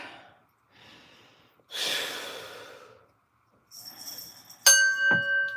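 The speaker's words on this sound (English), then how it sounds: "let me breathe like 3 seconds" Heavy, ragged breaths from someone winded after climbing stairs, a few separated exhales and gasps close to the mic, followed by a brief bright chime.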